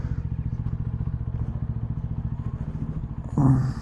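A motorbike engine runs close by in sport mode, a fast pulsing exhaust beat holding steady before a louder burst of revving near the end.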